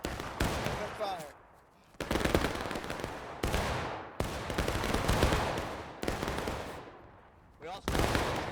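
Rifle volleys crash in the Civil War game War of Rights, as repeated dense bursts of massed musket fire in a ragged rhythm with brief lulls between volleys, loud and close, with voices now and then beneath.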